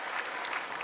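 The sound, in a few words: church congregation applauding to welcome new members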